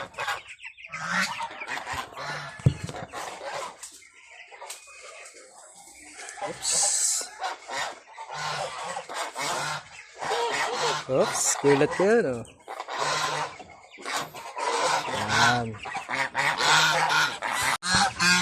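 Geese on a backyard poultry farm honk loudly and repeatedly in overlapping bursts at close range, mixed with other fowl calls while someone talks briefly over them.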